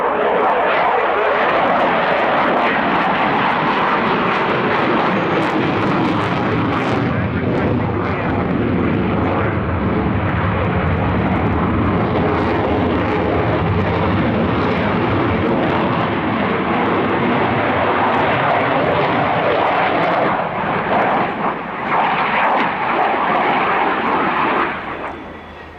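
A Dassault Rafale C delta-canard jet fighter performs at the RIAT 2018 airshow, approaching with undercarriage down in a loud, sustained roaring jet-engine rumble that stays powerful throughout, with a commentator speaking over it.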